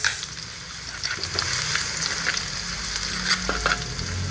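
Sardines hitting a hot pan of fragrant aromatics for sardine sotanghon soup, a bright continuous sizzle with spatters and a few stirring scrapes, close and steady with no talking.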